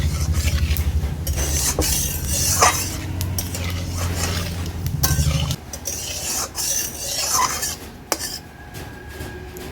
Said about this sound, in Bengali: তেল গরম হয়ে গেছে, দিয়ে দিলাম তেজপাতা, দিচ্ছি শুকনো লঙ্কা, দিচ্ছি গোটা জিরে। ফোড়নটাকে ভালো করে নেড়ে চেড়ে নিচ্ছি।